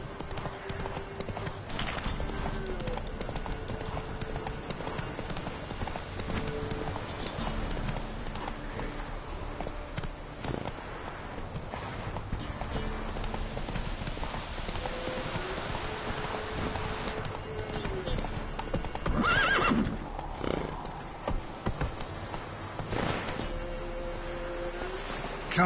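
Roach the horse in The Witcher 3 game, steady hoofbeat clip-clop at a moderate distance over ambient game sound, with a brief whinny near the end.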